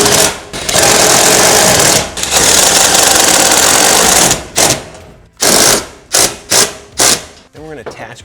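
Self-threading bolts being power-driven into the B pillar of a Ford Transit van during a Holman partition install: several loud bursts of a driver whirring and rattling, the first long, then a series of short stop-start pulses, with no talking.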